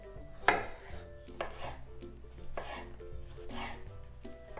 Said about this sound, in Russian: Затем я порежу 1 помидор.